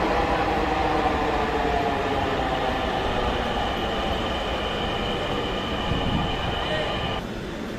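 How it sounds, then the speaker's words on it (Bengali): A crowded northbound metro train rumbles steadily into a station at night, close by with a continuous rolling drone and a faint high whine, quieting slightly at the very end. "আমাদের ট্রেনে চলে এসেছে উত্তরাগামী এবং যাত্রীতে পরিপূর্ণ"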